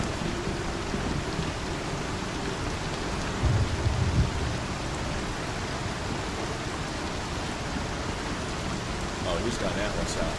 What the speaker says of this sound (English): Don't you love the rain, though? This rain is awesome.